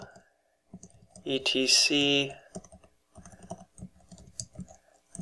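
Computer keyboard keys click in short rapid taps while someone types a command, with a voice speaking over part of the typing.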